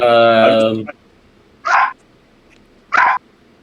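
Dog barking indoors, two short sharp barks separated by about a second of quiet, following a longer whining vocal at the start, moderately close.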